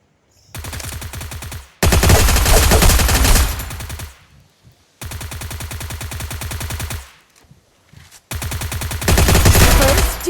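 Rapid automatic gunfire from the video game Free Fire rattles in loud, sustained bursts separated by brief pauses.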